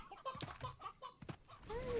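Chickens cluck in a row of short, bright calls from the video game Slime Rancher, fairly close and loud, ending on a rising squawk.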